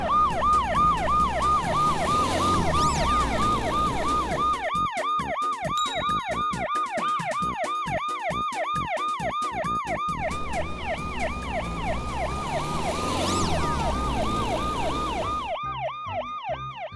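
A toy police car siren wails in a fast, regular up-and-down cycle, loud and close, repeating steadily with no talk.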